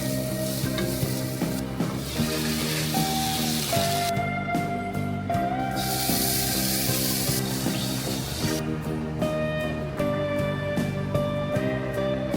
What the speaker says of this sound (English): I'm going to grill this trout right here